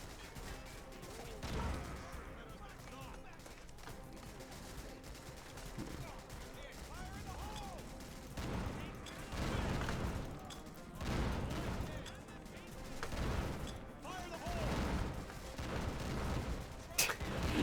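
Dense, continuous gunfire and booming artillery explosions from the WWII shooter game RAID: WWII, a loud, chaotic barrage with repeated heavy blasts swelling and fading throughout, and a voice talking faintly underneath.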